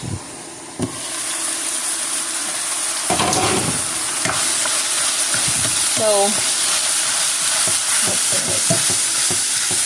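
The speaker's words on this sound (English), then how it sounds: "Let's go check on that meat. I hear it sizzling." Beef sizzles loudly in a frying pan with a constant hiss, accompanied by stirring scrapes; a voice speaks briefly near the start.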